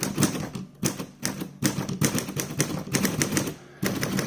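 Typing on a Corona Standard flat top typewriter: quick clusters of sharp mechanical key strikes with springy clatter, broken by short pauses, close and fairly quiet, with no voices.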